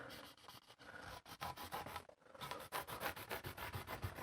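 Soft cotton cloth rubs back and forth along a pine guitar fretboard, a quiet, close swishing with short rhythmic strokes and a brief pause partway through, no talking.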